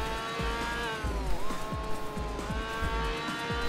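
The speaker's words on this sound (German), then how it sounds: "So rumpelt nur ein Audi TT." Audi TT engine in a racing video game, a steady droning rumble with shifting pitch, heard alone.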